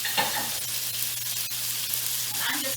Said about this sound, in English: That sizzling meat.